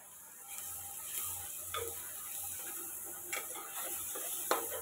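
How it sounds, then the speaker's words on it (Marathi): Ground black masala sautéing in a pan for dry Maharashtrian chicken curry, a faint steady sizzle with occasional scraping stirs of a spoon against the pot, quiet and close. "आता हे वाटलेला मसाला टाकणार आहे. याला पण चांगलं परतून घ्यायचं त्याला."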